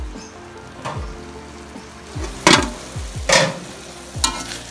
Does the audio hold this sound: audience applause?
no